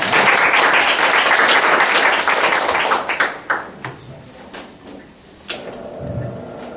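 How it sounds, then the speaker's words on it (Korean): Audience applause welcoming a professor's lecture on business management and spirituality, a dense, loud wash of clapping that thins into scattered claps and fades out, with a few final claps near the end. "우리 큰 박수로 환영해 주시기 바랍니다"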